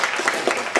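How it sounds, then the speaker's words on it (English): An audience in a meeting room applauds a speaker, giving a short, dense burst of hand claps that runs steadily throughout, close and fairly loud, with no one talking. "We'll give you a little applaud and get you started."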